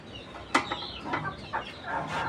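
Layer and silkie chickens cluck close by in a pen, giving several short separate calls over a quiet background.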